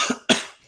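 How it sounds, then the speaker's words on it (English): Two quick, harsh coughs, the second louder and heavier, close to the microphone with brief silence between them and no speech. "Just coughing up a storm"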